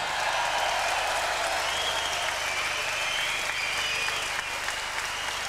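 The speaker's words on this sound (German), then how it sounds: "Jubel für die Ankündigung von Sven Ottke, dem Jungen aus Berlin" A boxing arena crowd claps and cheers continuously for a fighter's introduction, producing a dense, even wash of applause heard at a distance that stays steady throughout.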